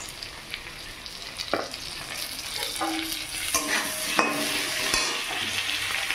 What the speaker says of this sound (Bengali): এর ভিতরে একটু হলুদ দেব আলুটা ভাজার জন্য